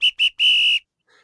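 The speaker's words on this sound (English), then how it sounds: "I think it's time to go ahead and blow the whistle." A referee-style whistle blown to close out a football podcast episode: three sharp shrill blasts, two short then one long, loud and alone.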